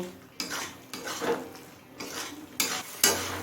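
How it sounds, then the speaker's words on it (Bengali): Chicken ghugni masala is stirred and sautéed in a pan, with a metal spoon scraping and clanking against the pan in several distinct knocks over a soft frying sizzle. "এবারে সব কিছু খুব ভালোভাবে কষিয়ে নেব"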